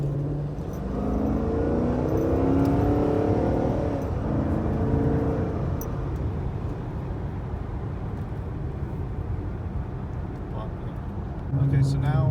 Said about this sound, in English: So you get more throttle response, and overall it feels like a faster car.